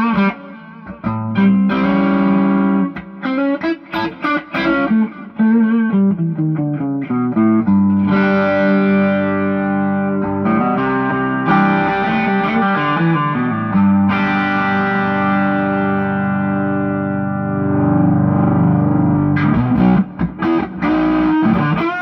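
Electric guitar with a Duncan 59 humbucker in the neck position and a treble bleed, played through a Plexi-Kush amp with the volume at 4, ringing out driven sustained chords and single-note phrases, loud and close, alone.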